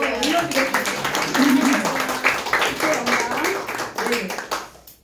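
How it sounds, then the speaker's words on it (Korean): A church congregation at a discipleship training service claps in a dense, continuous burst that fades out near the end. A voice carries on over the applause throughout. "우리 이렇게 박수 한번 올려드리겠습니다"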